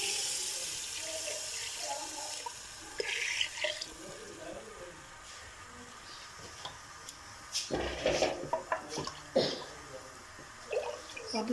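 About one and a half litres of water poured into a pot of mung dal, a steady running splash that swells near the end, close by, with a voice talking over parts of it.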